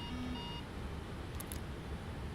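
Two quick high-pitched warning beeps in a FlightFactor Boeing 777v2 cockpit in the X-Plane 12 simulator sound faintly over a constant low engine rumble.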